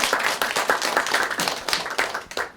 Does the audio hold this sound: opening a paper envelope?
no